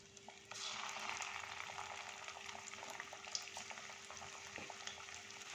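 Cauliflower pakoras fry in hot oil with a continuous, gentle bubbling sizzle and faint crackles, quiet and close, with no talking.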